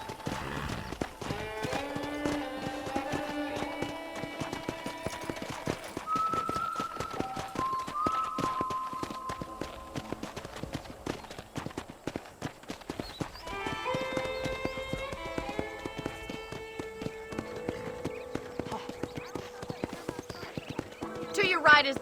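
A horse is ridden in the Red Dead Redemption video game, with steady clip-clopping hooves at a walking pace under a music score, and a voice speaks partway through.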